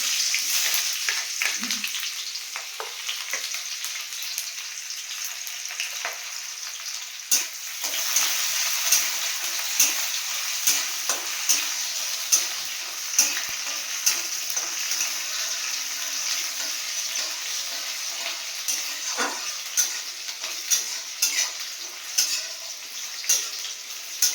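Onion frying in a pan for a palak dish hisses with a steady, loud sizzle, broken by repeated sharp scrapes and taps of stirring that grow more frequent toward the end.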